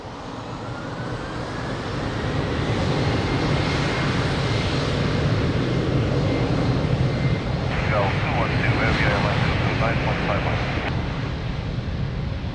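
A fixed-wing airliner takes off from Lisbon Airport on runway 02 in calm wind. Its engine roar swells and holds loud and broad, and radio chatter cuts in briefly over the noise.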